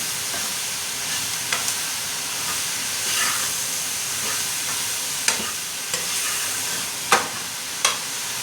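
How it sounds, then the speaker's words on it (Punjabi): Steady oily sizzling and hissing of spices tempering in a hot wok, with occasional sharp crackles and pops rising above the continuous fry. "ਅੱਜ ਕੜਾਈ 'ਚ ਤੜਕਾ ਲਾ ਲੈਣਾ"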